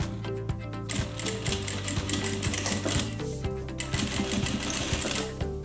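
A sewing machine stitches across a zipper while a zip-around long wallet is being made, its rapid mechanical needle clatter running nearly steadily with brief pauses, close and alone.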